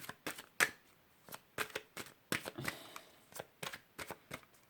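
Tarot cards shuffled for a reading, close and fairly quiet, as a string of crisp riffling bursts with short pauses between them.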